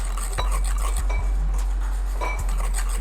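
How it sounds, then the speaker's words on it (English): A whisk or spoon stirring warm fresh cream into egg yolks in a bowl for crème brûlée, with repeated light clinks and scrapes against the bowl over a steady low hum, close and continuous. "So you will have to stir it continuously when you keep adding it."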